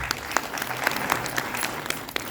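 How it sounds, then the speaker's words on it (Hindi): Applause at a retirement ceremony, a continuous spread of clapping from an audience with a few sharper individual claps standing out, moderately loud and somewhat distant. "मैं चाहूँगा जोरदार तालियां"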